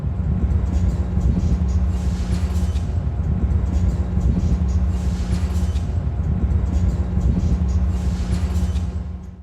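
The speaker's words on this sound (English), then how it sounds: "Those metallic sounds you heard in the background were again because this footage was captured" A train platform at Union Station in Los Angeles carries a loud, continuous low rumble of rail traffic. Faint metallic clanks and squeals run through it without a break.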